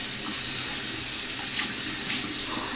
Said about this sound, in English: I'm just gonna wash my belly here.